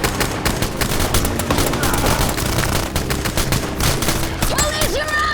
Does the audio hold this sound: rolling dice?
no